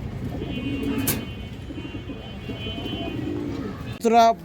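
Pigeons kept for sale, including high-flyer and coloured breeds, give repeated low throaty coos beneath someone talking, with a sharp louder burst of sound near the end.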